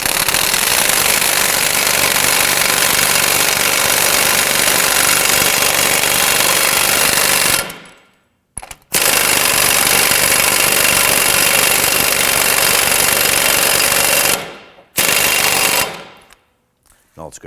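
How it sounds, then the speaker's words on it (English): An impact wrench snugs down the front axle nut on a 2008-2011 Ford Focus during a wheel hub and bearing replacement, hammering in long, loud, continuous rattling runs with two brief pauses. "Go ahead and install your axle nut. And we'll snug that down."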